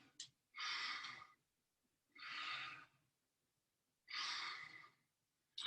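Three slow, deep breaths during a wellness movement session, each a long breathy inhale or exhale lasting under a second, with quiet pauses between them; soft and close, with no talking.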